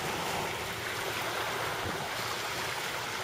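Wind blowing hard at the seaside during fishing, heard as a loud, constant roar of gusts and surf-like wash across the microphone, with no talk.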